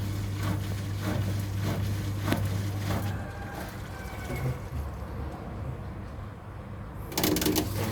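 The motor of an Electrolux front-loading washing machine whose drum will not spin runs with a low, steady hum that softens into a quieter rumble, then a short rattling burst near the end.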